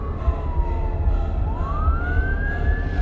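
A loud police patrol car siren wails close by, its pitch sliding down and then rising again over a low rumbling engine.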